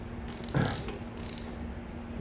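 A torque wrench set to 17 foot-pounds, fitted with an extension and socket, gives a single short mechanical click that stands out briefly over a quiet, steady background.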